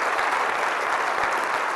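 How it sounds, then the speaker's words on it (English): Conference audience gives a round of applause for attending clergy and religious; dense, even clapping fills the whole short stretch at a steady level. "please, a round of applause for them"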